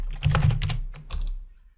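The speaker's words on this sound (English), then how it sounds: "So in this case, we're going to type in DOC." Quick bursts of clicking keystrokes on a computer keyboard, a short flurry of taps close to the microphone with a brief pause in the middle.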